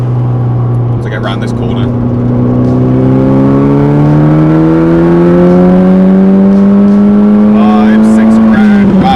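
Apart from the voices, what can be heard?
tuned Nissan Pulsar GTiR accelerating in third gear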